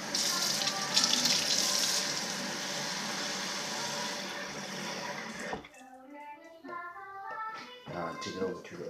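Water poured into a hot pan hisses and sizzles loudly and steadily for several seconds before cutting off, after which someone talks.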